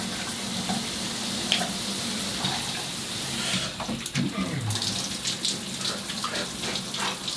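A cold shower running steadily, a continuous hiss of water spraying and splashing with small shifts in the flow, close and alone.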